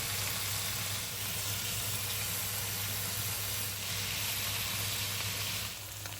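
Rabbit pieces sizzle in a pan, browning on one side before being turned, for a stewed rabbit in sour cream; a steady close hiss of frying continues without pause, with a low constant hum underneath.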